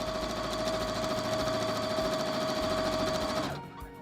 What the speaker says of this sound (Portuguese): continuo a minha costura até o final